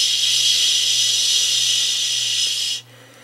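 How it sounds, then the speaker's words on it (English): Steady loud hiss from an espresso machine steam wand frothing milk in a mug, holding constant for nearly three seconds before cutting off abruptly to near silence. "We use a steam wand."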